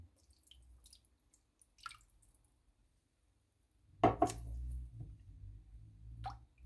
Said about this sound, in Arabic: بالبداية رح أنزل المي